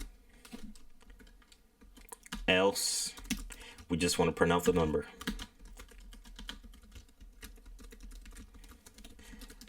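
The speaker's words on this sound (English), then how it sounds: "Sorry if I'm typing fast." Fast typing on a computer keyboard while writing code: dense, rapid key clicks run nearly throughout, close and clear, partly under a person speaking.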